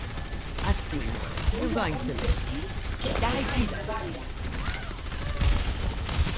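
Overwatch gunfire in a busy match, a dense rattle of rapid shots and mechanical clatter running throughout under a voice.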